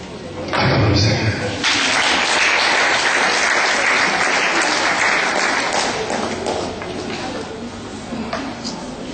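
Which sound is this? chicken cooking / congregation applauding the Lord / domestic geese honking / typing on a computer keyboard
congregation applauding the Lord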